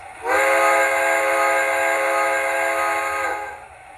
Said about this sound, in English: Let's listen to the whistle.